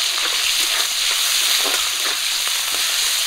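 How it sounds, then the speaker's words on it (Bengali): Split green chillies and chopped onion sizzle steadily in hot oil in a home kitchen, a loud, continuous frying hiss with faint stirring crackles throughout. "গরম তেলে দিয়ে দিচ্ছি কাঁচা লঙ্কা চেরা, আর দিয়ে দিচ্ছি পেঁয়াজ কুচি"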